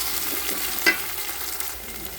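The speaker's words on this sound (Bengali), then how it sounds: "আদা রসুন দিয়ে দেব পরিমাণ মতো লবণ দিয়ে একটু ভালোভাবে আদা রসুনগুলো কষিয়ে নেব।" Ginger and garlic frying in oil with salt, a steady close sizzle with a few spoon scrapes and one sharp clink from stirring in the pan.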